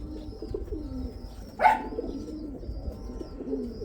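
Pigeons cooing in a yard, the soft low coos running faintly through steady outdoor background noise, with one brief sharper call rising near the middle.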